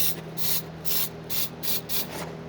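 Spray lubricant hissing into the seized rear door lock of a third-generation Mitsubishi Pajero, five short close bursts in a steady rhythm with brief pauses between them.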